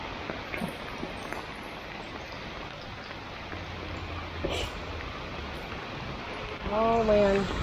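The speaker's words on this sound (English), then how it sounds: "the rain began to pour even harder" Heavy rain pours steadily at a busy city intersection in Connecticut, a dense continuous hiss with a brief surge midway, and a short tonal beep sounds near the end.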